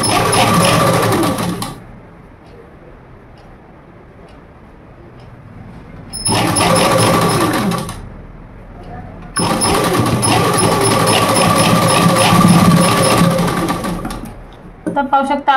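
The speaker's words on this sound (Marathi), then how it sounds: "पहिले इथे आपण शिलाई मारून घेणार आहोत।" A sewing machine runs in loud bursts, stitching fabric for a blouse's cup tucks, starting and stopping twice with a longer run near the end, while someone talks over the quieter gaps.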